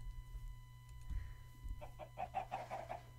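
Minecraft chickens clucking softly in short bursts, a cluster of faint bird-like calls toward the end over a low steady game-ambience hum.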